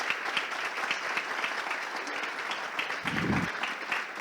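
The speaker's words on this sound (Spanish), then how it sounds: "un aplauso, por supuesto, para nuestros panelistas, nuestros invitados" Steady applause from an audience for panelists at a panel discussion event, many hands clapping continuously throughout with no break.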